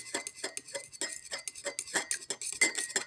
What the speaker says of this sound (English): If I stir it up a little bit